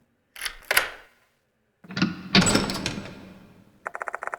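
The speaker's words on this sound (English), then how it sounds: "The moment Daru opens the door" A door opens in a video game, with a couple of sharp clicks and a thunk, then a louder latch and creak sequence followed by a rapid series of mechanical ticks.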